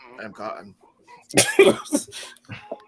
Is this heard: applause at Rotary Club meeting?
no